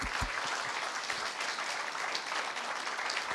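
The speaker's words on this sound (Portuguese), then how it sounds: "Palmas para Jesus e Maria." Applause for Jesus and Mary from a church congregation during a Portuguese-language prayer gathering, a steady dense patter of many hands held at even loudness for the whole stretch, with no voices over it.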